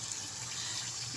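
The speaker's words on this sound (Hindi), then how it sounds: "मैंने 3/4 ग्लास पानी इसमें डाला है" Water splashes steadily into a cooking pot for a bottle gourd (lauki) curry, a short, even rushing pour heard on its own at moderate volume.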